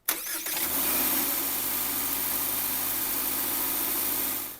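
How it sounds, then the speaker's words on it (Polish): A Subaru Forester's two-litre four-cylinder boxer engine, an e-boxer hybrid, fires up with a brief burst, then settles into a smooth, steady idle hum heard close by. "O kulturze pracy tego silnika chyba nie muszę mówić, bo pracując świetnie, zobaczcie."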